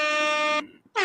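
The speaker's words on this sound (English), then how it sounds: "Get right that air horn going." A loud, brassy air horn blares in one sustained blast that cuts off abruptly, with a second blast starting just after a brief gap.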